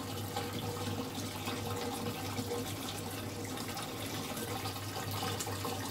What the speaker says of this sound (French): il y a un rideau d'eau bien sûr dans le fond, mais aussi sur les côtés